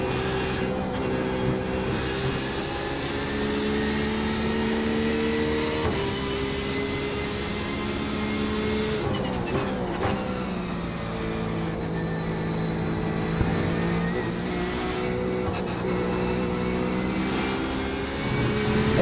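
Porsche 911 GT3 race car in iRacing at Spa-Francorchamps, its engine droning steadily with harmonic tones that rise and fall through gear changes, loud and close throughout.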